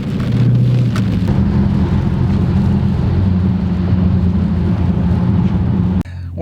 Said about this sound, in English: it is raining outside, pretty heavy.